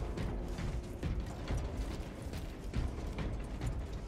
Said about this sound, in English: Oh, another elevator ride.